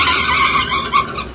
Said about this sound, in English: Suddenly, the second swerves ahead and forces the first car into the curb.